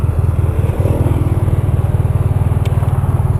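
A 2010 Honda VFR1200F DCT motorcycle rides at night, its engine a steady, loud pulsing rumble throughout at cruising speed, with a brief faint click partway through.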